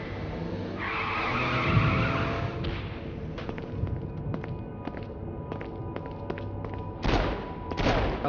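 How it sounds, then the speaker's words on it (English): Car in the Saints Row: Gat Outta Hell video game pulling a handbrake turn, a loud tyre skid swelling and fading early on, followed by scattered game impacts and a second burst of screeching near the end. "Handbrake turn."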